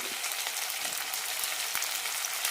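Steady crackling sizzle of tomato with mint, coriander and ginger-garlic paste sautéing in masala in a pan for broken wheat biryani, continuous and close with faint scraping stirs.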